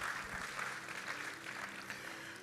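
A church congregation claps during a worship service, a brief, faint patter of applause mixed with some low tonal sound in the background.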